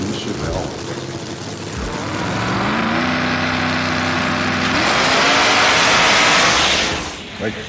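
Two drag racing wagons, the Poison Pinto and a Chevelle, launch head to head down the strip, their engines roaring loudly and rising in pitch as they accelerate, with crowd noise and commentary around them.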